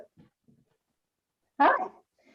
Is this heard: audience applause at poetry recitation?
no